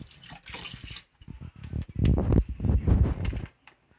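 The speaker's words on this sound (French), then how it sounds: "Je rince mon tilapia avec de l'eau froide." Tilapia being rinsed with cold tap water, close splashing and sloshing in bursts with brief pauses, a thin stream at first, then heavier handling of the fish under the water.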